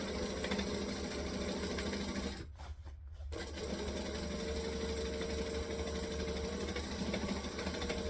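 A sewing machine runs steadily while it stitches around a hat brim with rainbow thread. The mechanical whir is close and continuous, with one brief pause partway through.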